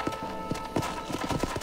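Horse hooves clip-clop steadily in Red Dead Redemption gameplay, a rhythmic run of close, distinct hoof strikes with no talk over them.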